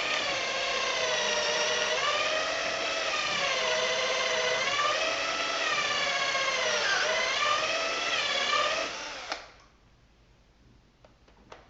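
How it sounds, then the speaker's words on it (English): A drill whines continuously for several seconds boring into pallet wood, its pitch wavering as it bores and bogs, then stops, leaving faint clicks and room noise. "You want to drill in part way and then pull out"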